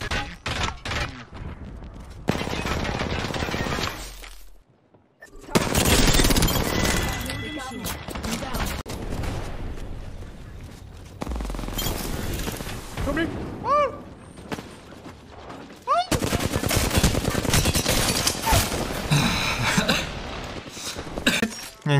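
Automatic gunfire in a video game: dense, loud bursts of rapid shots and impacts, broken by a short lull, with voices talking over much of the action.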